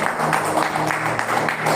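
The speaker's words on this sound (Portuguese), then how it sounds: "Então aplauda o Senhor bem forte." A church congregation claps loudly and densely in a steady wash of applause, with voices mixed faintly underneath.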